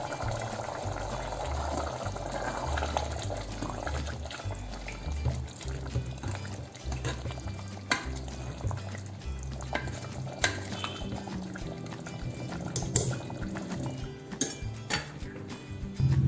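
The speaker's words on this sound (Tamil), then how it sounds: "2 நிமிஷம் கொதிக்கட்டும்." A thick black-eyed pea kurma bubbles and simmers steadily in a pan on a gas stove close up, with occasional clinks and scrapes of a spoon, no one speaking.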